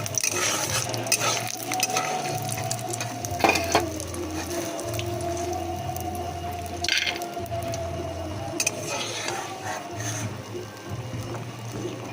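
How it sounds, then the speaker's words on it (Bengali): Small lentil dumplings (bori) fry in a pan, a steady low sizzle with scraping stirs and occasional clinks of a utensil against the pan, close and fairly quiet, no talking. "এখনও বড়ি ভাজা রয়েছে"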